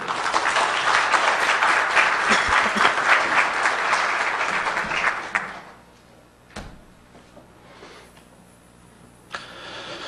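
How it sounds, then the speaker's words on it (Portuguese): Loud, dense audience applause fills a hall at a tax-law panel event as the Britten String Quartet is welcomed, holding steady for about five seconds before fading to quiet room tone with a couple of faint knocks. "Uma salva de palmas, por favor."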